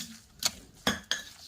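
Quick metallic clinks of a utensil whisking corn fritter batter in a bowl, three sharp strikes spaced apart over a faint background hiss.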